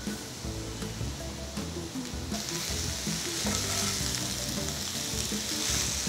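Small-cut potato pieces fry in an oil-filled pan with salt, giving a steady dense sizzle broken by repeated stirring scrapes, close and continuous with no talking.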